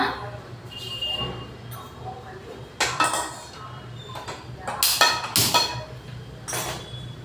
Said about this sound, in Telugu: ఇదిగోండి తాలింపుకి రెడీ చేసుకున్నా తాలింపు పెడుతున్నా